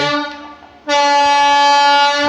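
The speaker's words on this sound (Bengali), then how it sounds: "এতক্ষণে ট্রেন আসছে" A Sealdah–Jangipur express train pulls into a station and sounds a loud, sustained horn. A short tone comes first, then after a brief dip a steady blast carries to the end.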